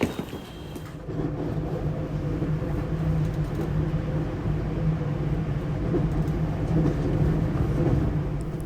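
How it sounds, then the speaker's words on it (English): Steady low rumble inside a crowded rush-hour commuter train heading into downtown Hiroshima, a continuous droning hum with rattling and faint mechanical noise, no voices standing out. "That is the sound of rush hour traffic on a train into downtown Hiroshima."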